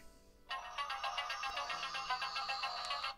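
Electronic music from the sound module of a KITT model car kit, a tinny, rhythmic synthesized tune with repeating pulses starting suddenly, heard close and alone without speech.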